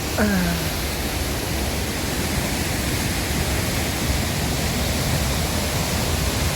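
Huai Chang waterfall in Wiang Nuea, Pai, a steady broadband rush of falling water heard close and loud throughout, unbroken and even.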